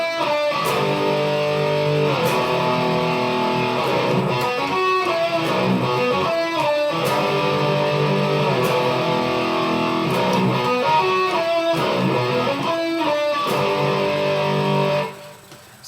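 Distorted electric guitar plays a harmonizing metal part, loud and continuous with palm-muted chugs and sustained melodic notes, cutting off sharply at the end.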